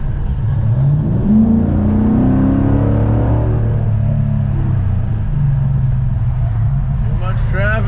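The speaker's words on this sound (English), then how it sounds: "Too much traffic" Cars and trucks drive past on a busy road, heard from inside a vehicle as a rumbling, swelling whoosh that rises then fades, with a deep steady engine drone underneath.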